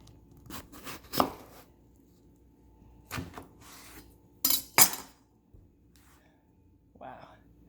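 A knife cutting up a melon sounds as a series of scattered chops and slicing strokes, some sharp and close, with rustling and handling noise between cuts and a quiet background.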